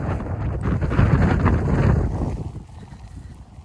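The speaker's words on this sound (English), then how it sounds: "There's the wind." Strong storm wind buffets the microphone on a Peak District moorland farm, a loud continuous rushing roar that eases off toward the end; no voices.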